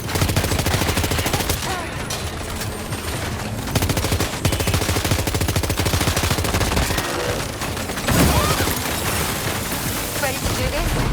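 Rapid gunfire in the video game Death Stranding 2, dense bursts of automatic shots and booms under game music, loud and continuous with short pauses.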